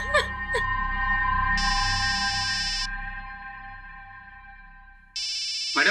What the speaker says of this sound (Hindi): मैडम आपका फोन बज रहा है।